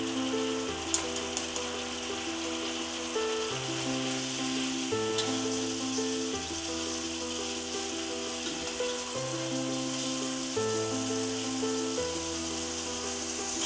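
Two kinds of chili powder and turmeric powder hit hot oil for a vegetable curry of late-winter vegetables, giving a loud, steady hiss that runs without break under soft background music.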